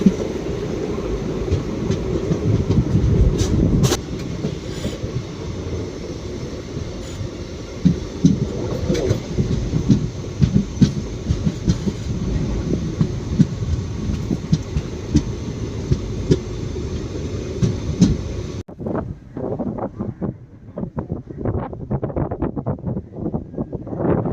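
Passenger train rolling from Tirunelveli toward Kanniyakumari, a loud steady rumble with rattling carriage noise and clickety-clack for most of the ride, then dropping abruptly to a quieter run of sharp clacks near the end.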